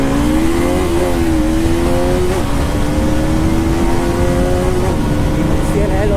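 A KTM and a Bajaj Pulsar NS200 motorcycle rev and race, their engines droning loudly and steadily with shifting pitch under wind rush.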